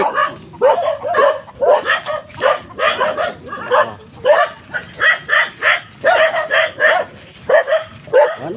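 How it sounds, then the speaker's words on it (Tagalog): A pack of dogs kept to guard a flock of fighting roosters barks and yips in rapid overlapping bursts, loud and near, with occasional whimpers in a rural hillside setting. "Yan po ang bantay ng kanyang mga manok. Aso. Ang dami."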